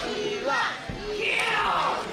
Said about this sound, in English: Crowd gets an Eli chant going.